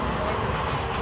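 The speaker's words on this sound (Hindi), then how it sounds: "बैठ गए हैं ट्रेन में" An airport shuttle train at Jeddah airport moves along with a steady, loud, low rumble that holds evenly throughout a brief moment, with no voices.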